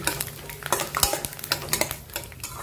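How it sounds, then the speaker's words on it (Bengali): A handful of peanuts fries on low flame in mustard oil in a wok, with a soft sizzle under busy metallic stirring and clinks of a spatula against the pan. "ফ্লেমটাকে একটু কমে রেখে বাদামগুলোকে ভেজে নিচ্ছি।"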